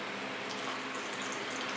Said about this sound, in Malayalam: അപ്പൊ ഇനി ഇതിലേക്ക് നമുക്ക് വെള്ളം ചേർത്ത് കൊടുക്കാം